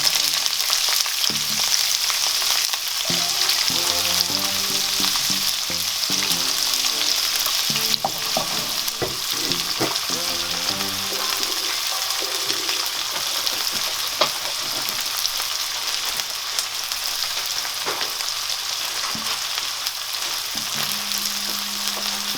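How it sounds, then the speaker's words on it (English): Onions frying in vegetable oil together with minced meat for a Nigerian meat pie filling, a steady close sizzle with occasional stirring scrapes running throughout, no talking. "So we're frying the onions now."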